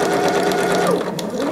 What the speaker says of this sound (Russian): И дошиваем до конца.